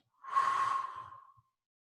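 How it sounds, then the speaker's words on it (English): A single long, breathy exhale during a breathing exercise, close and moderately loud, swelling quickly and fading over about a second, with no talk. "So deep breath in, We hold it and we exhale."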